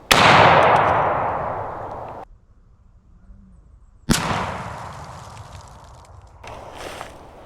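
Two loud shotgun blasts using Federal Top Gun 8 shells outdoors, each a sharp crack followed by a long, fading rumble, separated by a brief silence.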